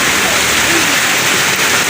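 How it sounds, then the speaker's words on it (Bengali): A heavy downpour roars close and loud as a dense, unbroken wash of rain that holds at the same level throughout. "কি বৃষ্টি সকাল থেকে পড়েই যাচ্ছে"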